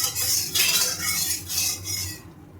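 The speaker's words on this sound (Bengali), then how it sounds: "আমি একটু খুন্তি দিয়ে নাড়িয়ে নেব" A spatula stirs and scrapes through fish curry spice paste in hot oil in a pan for a rui fish curry, with repeated clinking, scraping strokes up close, louder in bursts, then settling near the end.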